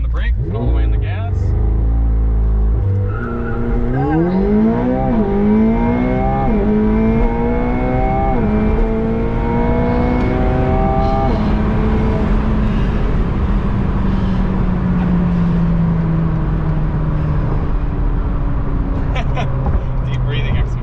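A 2021 McLaren 720S launching from a standstill, its engine climbing in a rapid series of rising, gear-stepped sweeps before settling into a steady roar, loud and close from inside the cabin.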